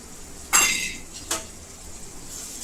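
A spoon clinks against a pan while tomato puree is stirred into cooked onion, ginger and garlic, two sharp metallic taps followed by a soft, faint sizzle.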